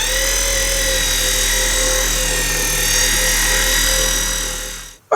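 A power buffer polishes oxidized paint on a 1982 Suzuki GS650 motorcycle, running as a loud, steady motor whine with a constant tone for about five seconds before stopping abruptly with a short clunk.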